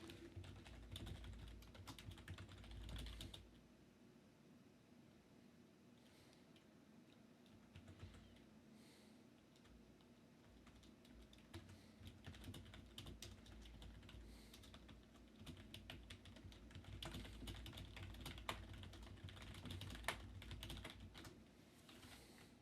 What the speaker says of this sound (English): What am I clipping? Me typing?